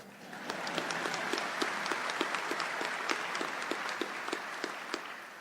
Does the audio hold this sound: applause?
yes